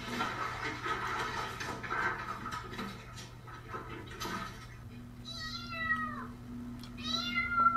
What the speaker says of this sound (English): That is a cute little kitten.